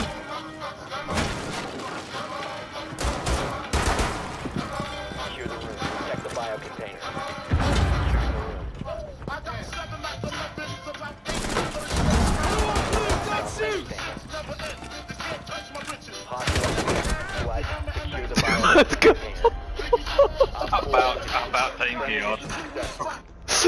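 Gunfire in a video game during a shield rush, bursts of sharp loud shots and cracks clustered in several volleys separated by quieter gaps, with voices talking in between.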